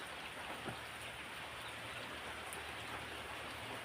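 Soft, steady rain falls around a rural home on a cold day, a faint even hiss with scattered light drip ticks and no voices.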